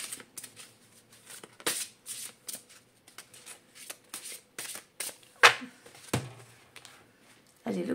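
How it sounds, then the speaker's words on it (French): Large oracle cards being shuffled vertically by hand, a series of soft, close riffling and slapping bursts in an irregular rhythm, with brief pauses between handfuls and no talk. "les cartes d'une certaine envergure, de les mélanger à la verticale"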